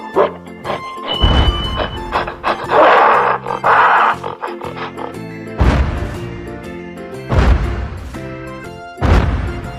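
Gorilla roars, loud, rough and heavy bursts that recur several times, set over a backing of music with booming, crashing accents.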